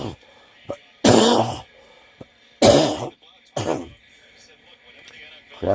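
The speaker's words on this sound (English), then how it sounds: "I gotta cough up all this crap out of my chest here" A man clears his chest with several harsh, wet coughs and throat clearing, three main bursts spaced a second or so apart with smaller hacks between, close to the microphone and heard alone.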